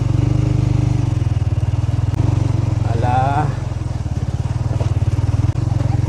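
A motorcycle engine chugs steadily and loudly up a hill path near Jets View Deck and Cabana in Montalban, Rizal, with a brief voice speaking over the continuous pulsing drone.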